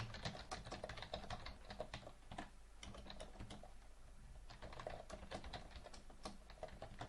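Steady, rapid typing of code on a computer keyboard, with close, crisp keystrokes clattering in quick bursts and brief pauses throughout, and no voice.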